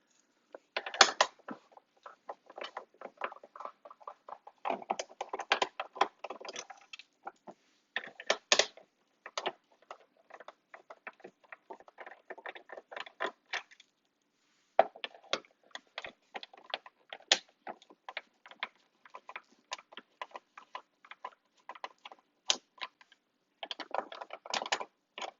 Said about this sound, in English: You're going to remove, I guess it's 8 screws here.